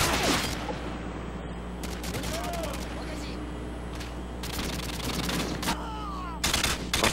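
Gunfire in a shooter video game: bursts of rapid shots in clustered volleys with gaps between them, loud and close, with a player's voice talking in between.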